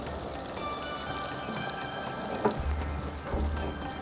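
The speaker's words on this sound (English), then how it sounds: "I'm just shallow frying it." Chicken shallow-fries in hot oil for a malai handi, giving a soft, steady sizzling hiss with a couple of brief louder crackles, heard up close with no talking.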